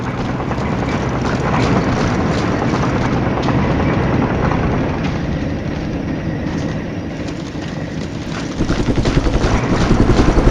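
Helicopter rotor drone from the war game Flashpoint Campaigns: Southern Storm, a loud continuous throbbing rumble that swells slightly toward the end, with no voices over it.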